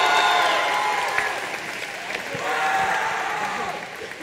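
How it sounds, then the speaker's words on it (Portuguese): A studio audience at a televised live show applauds in a sustained wash of clapping and crowd noise, swelling and easing slightly, with voices talking over it. "Muitos aplausos pra eles."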